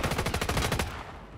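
Rapid automatic gunfire in a battle royale video game, a tight burst of repeated shots for most of a second before cutting off into quieter background noise.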